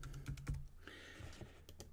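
Quiet keystrokes on a computer keyboard tap in an uneven burst while text is typed into a Keynote placeholder, close and soft, with no talk over it.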